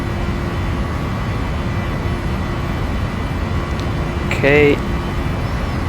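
Boeing 737-800 in the Prepar3D v4.5 flight simulator climbing after takeoff, a steady broadband engine roar with a constant tone running throughout, and a brief spoken word near the end.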